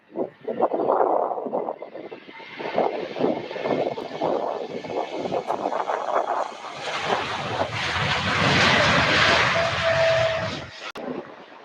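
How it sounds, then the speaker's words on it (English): A Boeing 747-8 freighter at Louisville airport roars past as a loud, sustained jet rumble that swells over several seconds, broad and continuous with wind buffeting on the microphone, then cuts off abruptly near the end. "And this is 747-8 freighter, everybody."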